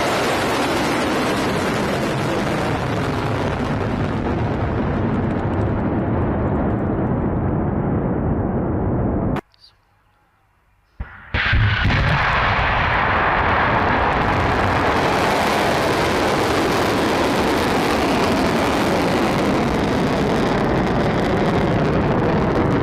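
Iranian ballistic missiles launching toward Israel make a loud, sustained roaring rush, broken by a brief drop to near silence before the thunderous roar resumes at full strength and holds steady to the end.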